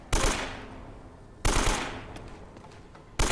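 AK rifle gunfire in Uncharted: Drake's Fortune: three sharp, loud automatic bursts about 1.5 seconds apart, each ringing out with a decaying echo, with no speech over them.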